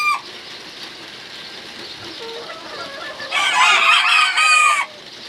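Chickens cluck nearby, then a rooster crows loudly for over a second, with a steady hum of birds and farmyard noise behind in a poultry shed.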